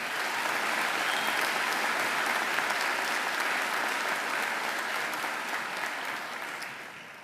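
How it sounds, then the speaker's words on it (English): An audience at a Macquarie University graduation ceremony applauds loudly and steadily for several seconds before the clapping begins to fade. "I think she deserves another great round of applause."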